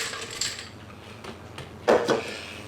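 Ice cubes clatter into a glass, with a few light clinks early on and a louder tumbling rattle near the end, for an iced vanilla latte.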